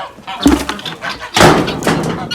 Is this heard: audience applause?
no